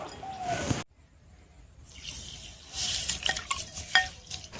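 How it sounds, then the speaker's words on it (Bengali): New-season aatap rice being rinsed in a bowl of water by hand, with soft sloshing and swirling splashes, a brief quiet gap, then livelier clinking and splashing close up. "এখন চালটাকে খুব ভালো করে ধুয়ে নেব"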